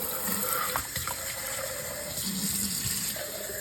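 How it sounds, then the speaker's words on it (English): Kitchen tap water running into a cup during Sunday dinner cooking, a steady hiss of flowing water with small splashes and clinks, close and fairly loud, with no talking. "I'm going to get a cup of water."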